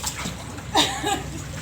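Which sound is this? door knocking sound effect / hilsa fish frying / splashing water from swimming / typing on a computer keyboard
splashing water from swimming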